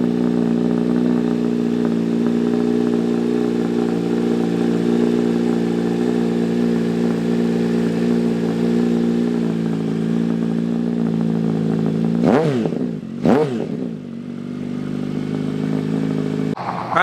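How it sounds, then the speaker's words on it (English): Kawasaki ZH2 motorcycle with a Brocks Performance slip-on exhaust, loud, close, steady idle rumble for about twelve seconds, then two sharp throttle blips rising and falling before settling back to idle. "That's the Brock's Performance slip-on for the ZH2."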